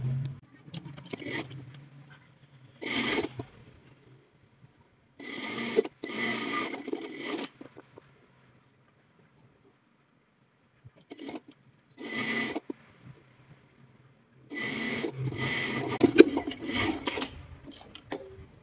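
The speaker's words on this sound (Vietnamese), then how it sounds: "Đây mọi người sẽ may đều từ trên xuống dưới, hay may như nhau vậy ha." A sewing machine runs in several separate bursts while a garment's side seam is stitched from top to bottom for a home loungewear top, each burst a steady close whir with quiet pauses between.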